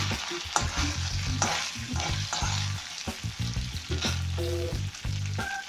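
Mini idlis stir-fried in hot oil with asafoetida, a loud, steady sizzle close by with repeated scraping strokes of a spatula in the pan throughout, and no talking.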